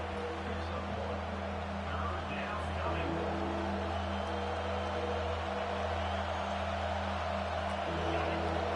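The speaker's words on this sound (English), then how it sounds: "The roar of the crowd trying to fuel this defense to keep them pinned in their own end" Sustained roar of a big stadium crowd at an Arkansas Razorbacks football game, a constant wash of cheering with low hum beneath, with broadcast commentary talking faintly over it.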